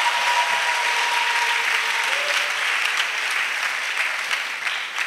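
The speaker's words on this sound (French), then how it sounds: "Oui, acclame très fort le Seigneur" An audience in a hall applauding loudly and cheering to acclaim the Lord, a dense, continuous roar of clapping that holds steady throughout.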